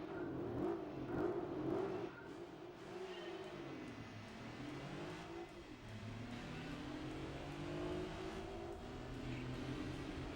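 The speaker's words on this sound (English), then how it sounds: "Listen to the sound of V6s, which sound terrible." Several V6 race cars in Gran Turismo 4 accelerate together, their engines droning and rising and falling in pitch steadily for about ten seconds with no talk over them.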